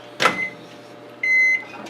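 Microwave oven used for making puffed corn bait for carp fishing: a quiet hum with a sharp clunk, then a brief steady electronic beep.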